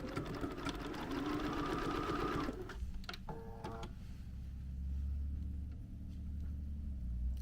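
Sewing machine stitching bias binding onto a small fabric oven mitt, a steady fast mechanical whir for about two and a half seconds, then it stops, leaving quieter handling noises and a low background rumble.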